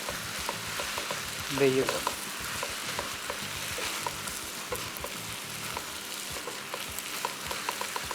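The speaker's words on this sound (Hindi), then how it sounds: "अभी सारा का सारा मैं इसको अच्छे तरीके से मिक्स करूँगा" Vegetables for Manchurian sizzle steadily in a hot pan on a high flame while a spatula stirs and scrapes them; someone briefly speaks over the frying.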